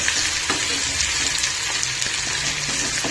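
Ginger garlic paste fries in a pan with a constant bright sizzle, with soft stirring scrapes and taps now and then.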